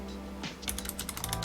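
Quick typing on a computer keyboard, a brief burst of about ten crisp key clicks entering a search prompt, close and moderately quiet, with no speech.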